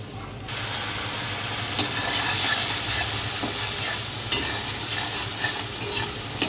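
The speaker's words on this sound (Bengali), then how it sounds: "দিয়ে দিলাম কাঁচা লঙ্কা আর দিয়ে দেবো হলুদ গুঁড়ো আর দিয়ে দেবো অল্প পরিমাণে লঙ্কা গুঁড়ো দিয়ে ভালো করে কষিয়ে নেব" Potatoes fry steadily in a pan with green chili, turmeric and chili powder, giving a constant sizzle broken by a few sharp scraping clicks of stirring.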